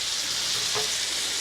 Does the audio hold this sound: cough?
no